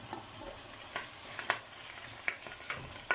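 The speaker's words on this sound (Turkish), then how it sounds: "Biberlerimiz burada kızarıyor." Peppers frying in a pan, a soft steady sizzle broken by several sharp crackles and spoon knocks.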